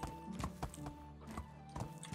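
Horse hooves clip-clop in the medieval survival game Medieval Dynasty, a steady run of sharp, fairly close hoof strikes over a low drone and faint tonal background, with no talk.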